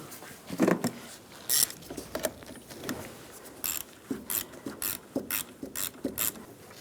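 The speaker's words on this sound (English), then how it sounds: "Now the negative terminal, and tighten that down." A hand ratchet tightens the negative battery terminal on a Cadillac SRX, sounding as a series of sharp, close clicking bursts in irregular short runs with brief pauses between strokes, no talk over it.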